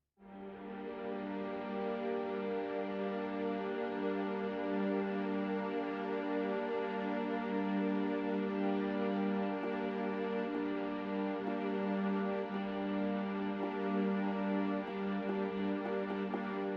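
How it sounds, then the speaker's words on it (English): Sunset Strings sample library sustaining a steady string chord, its tone shifting gradually from airy sul tasto non-vibrato toward warmer vibrato over a long, even, unbroken hold with no talk. "So that would make the most sense for a soltasto or non-vibrato to vibrato articulation."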